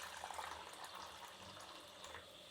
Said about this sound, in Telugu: ఇప్పుడు కొంచెం నీళ్ళు వేద్దామండి ఇందులోకి.